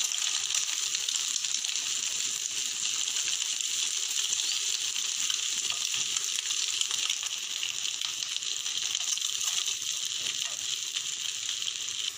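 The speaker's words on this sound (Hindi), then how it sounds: "दोनों तरफ से हमारा अंडा जो है थोड़ा सा फ्राई हो गया है गोल्डन कलर का" Boiled eggs for an egg malai curry frying in hot oil in a pan, a steady, dense sizzle and crackle continuing evenly throughout, close and fairly loud with no voices.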